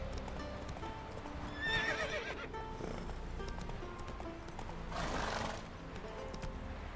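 Roach, Geralt's horse in The Witcher 3 on Ard Skellig, whinnies twice, a shrill cry early and a rougher snort later, over steady clip-clopping hooves with game music underneath.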